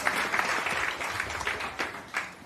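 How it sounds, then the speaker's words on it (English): Applause from an audience at a press club gathering, a dense wash of clapping with a few sharper peaks, steady and fairly close throughout. "So let's give a round of applause for that."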